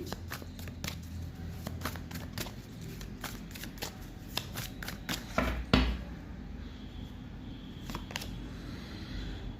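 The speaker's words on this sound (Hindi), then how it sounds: "एक बार और शफल करूँगी कि वो कार्ड्स रिपीट ना हो जाएं" A deck of tarot-style cards is shuffled by hand at close range, giving a run of quick, crisp riffling snaps and soft slides that keep going for several seconds, with no talk.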